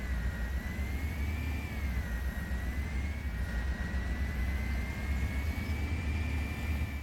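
Vehicle engine in the video game Halo: Combat Evolved Anniversary, a sustained droning hum with a steady whining tone that wavers slightly in pitch, continuous and moderately quiet.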